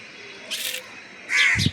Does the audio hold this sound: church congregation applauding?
no